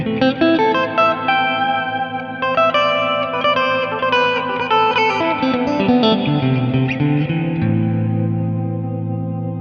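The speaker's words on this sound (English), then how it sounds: "So we've got the infinite control here, which basically is going to allow us to hold some reverb down, basically, or hold a sound down, and then we can play over the top." Electric guitar run through a Strymon Nightsky reverb pedal with infinite hold, a sustained wash of held reverb droning underneath while new notes and chords ring out over it, thick, shimmering and continuous.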